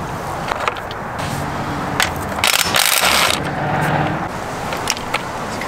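An impact wrench loosens a lug nut on an abandoned 1957 Chevy Tri-Five, giving a loud, close burst of rattling, crunching hammering with scraping bangs. No one speaks.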